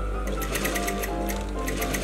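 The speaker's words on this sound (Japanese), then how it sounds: "でミシンかける時は先にかかってるミシンに" Sewing machine stitching a bound buttonhole in thick fabric, giving a steady rapid ticking rhythm over a constant motor hum that continues throughout at moderate loudness, with no talk.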